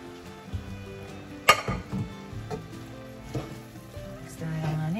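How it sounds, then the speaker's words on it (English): Shrimp and prawns sizzle quietly in a hot pan for a low-carb Cajun dish, a soft steady frying hiss broken by a few light clinks and stirring taps. "Now I'm going to add in our shrimp and prawns. We're gonna let that cook up."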